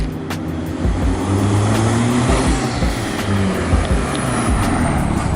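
A car rolls down a residential street toward the listener, a steady loud engine rumble with low harmonics lasting throughout, with no talking.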